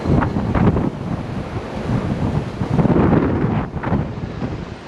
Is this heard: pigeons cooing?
no